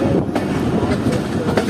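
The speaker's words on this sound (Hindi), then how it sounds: "तो ठीक 9:55 पर हमारी ट्रेन अप्रोच कर रही है अटक सिटी जंक्शन रेलवे स्टेशन पर" The Jaffer Express passenger train approaches Attock City Junction railway station with a loud, continuous rumble. Faint rhythmic wheel clacks run through it, and no one speaks.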